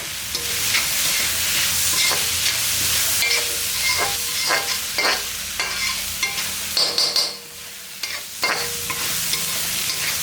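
Sweet corn sautés in a pan as a spatula stirs it, a steady sizzle broken by repeated scraping strokes, loud and close, with no voices.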